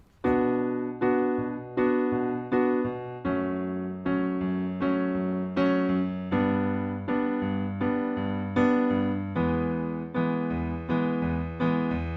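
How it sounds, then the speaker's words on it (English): Keyboard chords played in a steady rhythm, each struck repeatedly, moving through a four-chord progression of two minor and two major harmonies, clear and alone. "So those 4 chords, 2 minors, 2 majors, sound like this."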